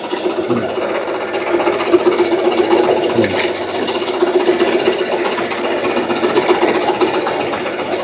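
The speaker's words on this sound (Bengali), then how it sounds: "এই হচ্ছে ছোলা পড়ছে" A chickpea processing machine runs with a steady mechanical drone and hum while chickpeas pour from its hopper in a continuous rasping rustle, close and fairly loud.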